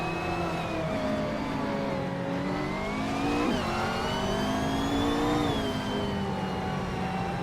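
Racing cars, including a 2015 Ferrari hypercar, roar off the line together at the race start on the Sportsland Sugo track in a video game, engines steadily rising in pitch as they accelerate, loud and continuous with no talking.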